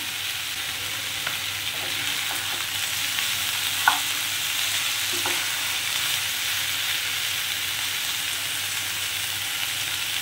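Steady sizzling of chicken frying in a little oil in a pan, continuous and close, with a few faint clinks of a utensil stirring.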